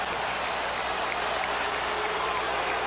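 Dense, steady roar of a basketball arena crowd at a 1998 Western Conference Finals playoff game in Los Angeles, cheering and clapping continuously at fairly even volume with no single voice standing out.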